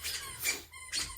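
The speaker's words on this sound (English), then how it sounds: "I'm so sorry about the dog squeaking the toy." A dog squeaks a squeaky toy indoors, three drawn-out rubbery squeaks in quick succession, close and fairly loud.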